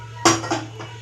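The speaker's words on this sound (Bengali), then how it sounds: "আমি কড়াই বসিয়ে দিচ্ছি" A metal kadai set down on a stove in a home kitchen: one sharp clanging contact followed by two smaller knocks as it settles, over a steady low electrical hum.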